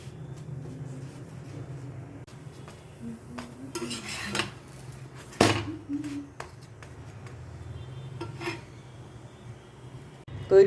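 Boiled potato with spices being stirred and fried in a pan for aloo paratha: steady faint frying hiss under repeated metal scraping and clinking of a spoon, with a couple of sharper knocks.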